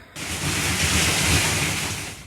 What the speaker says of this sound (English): I'll go ahead and show you guys a clip of the water gushing out.